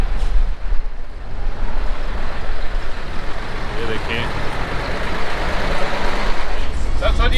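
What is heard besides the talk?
trucks and traffic moving on Karakoram Highway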